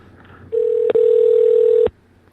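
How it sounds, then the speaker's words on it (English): A single steady electronic ringback tone sounds for over a second, clear and close, with a brief click near its start. "You're going to hear a ringtone here momentarily."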